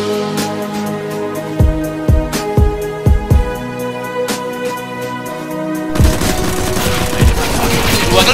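AWP sniper rifle fire in CS:GO during a LAN esports tournament: a series of sharp, loud cracks about half a second apart over a steady tonal background, followed by a denser burst of noise near the end.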